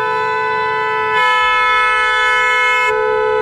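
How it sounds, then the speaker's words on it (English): A loud, sustained car horn blares steadily for several seconds, its pitch shifting slightly partway through. "Jeffy, get off the horn, Jeffy!"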